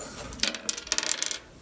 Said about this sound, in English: you go ahead and roll your dice